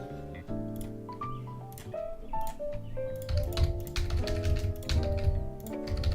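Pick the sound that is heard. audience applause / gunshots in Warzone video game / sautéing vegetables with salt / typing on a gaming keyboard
typing on a gaming keyboard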